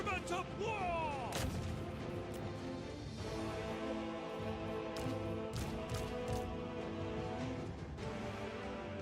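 Dense video game battle gunfire with booming artillery shots and crackling volleys, loud and continuous, layered over rumbling explosions throughout a fantasy strategy battle between armies.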